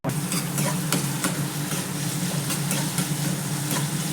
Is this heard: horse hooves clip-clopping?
no